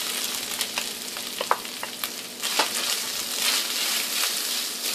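Onions with green chili fry in a pan, a loud continuous crackling sizzle dotted with stirring clicks and spatters, close and steady throughout.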